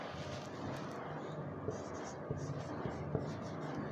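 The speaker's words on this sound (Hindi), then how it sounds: "लाइन लिखता हूँ दोस्तों" Pen writing a line on paper, light scratchy strokes with a few small taps, close and fairly quiet against a steady background.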